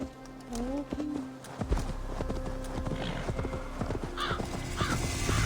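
A video game horse trots with rhythmic clip-clop hooves and lets out a couple of whinnies, with background game music and a player talking over it.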